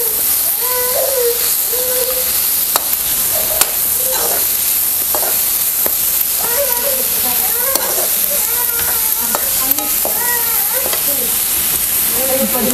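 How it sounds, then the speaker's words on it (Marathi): A mixture is sautéed and stirred in a pan as a constant loud hissing sizzle, with scraping strokes and a voice talking over it throughout. "थोड्या वेळानं आपल्याला चांगलं ते मऊ होईपर्यंत तेवढंच आपल्याला हे परतून घ्यायचं"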